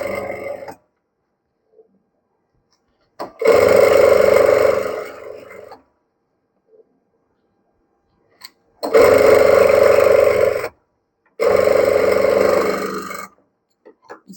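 A sewing machine stitches lace onto a blouse in three separate bursts of loud, steady whirring, each lasting one to two seconds, with silent pauses in between.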